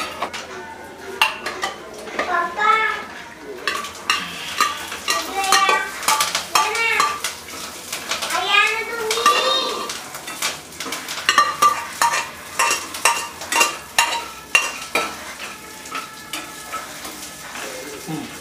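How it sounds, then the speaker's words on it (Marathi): Soft, well-cooked dal is tipped into a metal strainer with a steady run of spoon scrapes, clinks and wet stirring sounds against the pot, close and fairly loud, with a brief voice partway through. "आता आपण ही ह्या चाळणीमध्ये काढून घेऊया."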